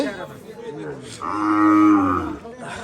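A cow lets out one long, loud moo that rises and holds for about a second, with a murmur of people and farmyard noise around it at a livestock market where calves are sold.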